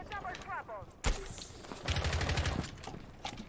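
A gun fires in a tactical first-person shooter, with a sharp shot followed by a rapid string of loud close shots in a short burst, alongside other game effects and brief chirping sounds.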